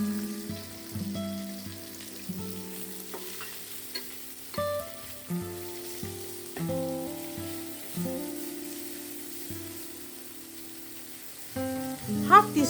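Sliced onions fry in oil with green cardamom, cinnamon sticks, cloves and bay leaves. A soft sizzle is punctuated by occasional stirring and clinks, close but fairly quiet, with intermittent talk and tonal music in the background.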